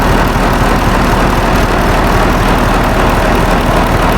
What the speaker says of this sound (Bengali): ভিতরে ইঞ্জিন লোড আছে ওইটা দেখেন